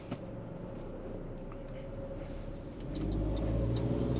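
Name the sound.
MG ZST 1.3 turbo petrol SUV driving on road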